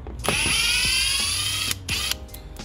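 Power drill or driver whirring steadily for about a second and a half while loosening headlight screws on a 2015 Jeep Compass, followed by a short second burst and small clicks, close and fairly loud.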